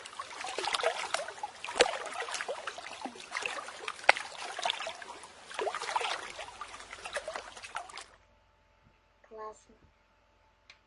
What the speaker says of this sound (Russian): Послушай шум озера.